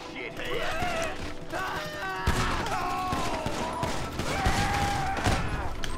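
Gunfire in the online game GTA V, a burst of shots cracking over continuous game noise and background music, with talk heard throughout.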